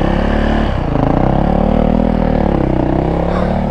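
A sport bike is put straight into gear and pulls away, its engine note droning steadily and loudly for the whole stretch with a slight dip and surge early on.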